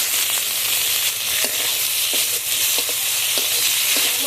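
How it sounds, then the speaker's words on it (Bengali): Chopped tomatoes fry in a pan with ground spice paste for a Bengali rohu fish curry, giving a loud, steady, close sizzle with faint scraping stir sounds now and then. "মশলার সঙ্গে টমেটোটা ভালোভাবে কষিয়ে নেব।"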